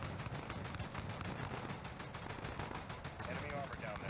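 Rapid 30mm cannon fire from an aircraft in Call of Duty: Modern Warfare, a dense, continuous stream of booming shots with a low rumble, loud and unbroken from start to finish.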